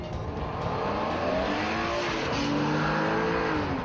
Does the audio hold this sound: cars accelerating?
yes